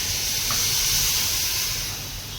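Boiling water poured into a pan of roasted semolina while making kesari, giving a loud, steady hiss and sizzle of steam that swells and then eases slightly, with no talking.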